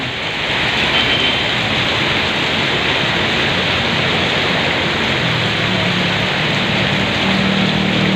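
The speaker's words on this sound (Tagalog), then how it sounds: "ang haba ng ulan" Steady, dense rain pours continuously, a broad hiss with a low patter underneath, with no letup throughout.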